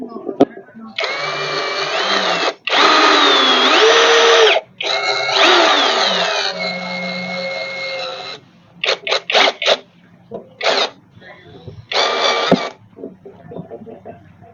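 Power screwdriver driving bolts into the basket of a Honda Wave 110i motorcycle, long loud whining runs followed by a string of short sharp bursts as the bolts tighten, close up, with someone talking briefly between them.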